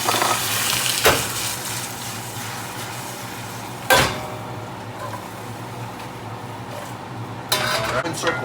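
Vegetables sizzle steadily in a frying pan while a utensil stirs them, with a few sharp clanks of spoon against the pan, close and moderately loud, with a voice speaking softly in the background.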